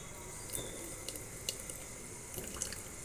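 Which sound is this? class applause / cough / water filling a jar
water filling a jar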